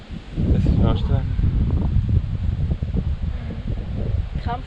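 Strong wind rushes past a cyclist's microphone on a ride from Lake Ohrid toward Greece, a continuous low roar that buffets unevenly, with voices talking over it.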